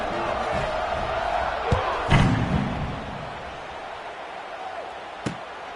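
Stadium crowd at a Buffalo football game keeps up a steady roar throughout, with a few sharp thuds and bangs rising above it and a brief swell near the start.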